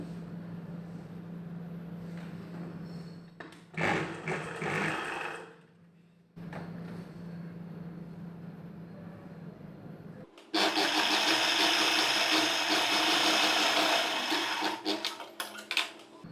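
A sewing machine runs in bursts while stitching the joint of a back-open, back-hook blouse, with a steady motor hum, a short pause, then a louder, faster run near the end.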